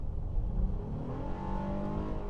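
A 2025 Honda Ridgeline Trailsport's engine revs under hard acceleration, a continuous loud, rising drone heard from inside the cabin with no talking.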